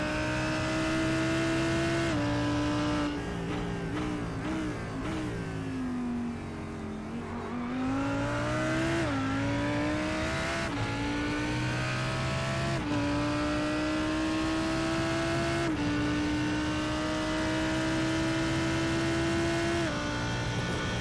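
A Lamborghini Huracan GT3 Evo with a 5.2 litre V10 roars steadily in a racing game at Spa, the loud close engine note holding high, dipping on a slowdown and climbing again through gear shifts, with no talk.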